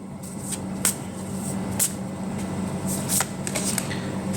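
Tarot cards being shuffled and drawn during a reading, with a steady papery riffling texture and several crisp card snaps standing out at intervals, close and moderately loud.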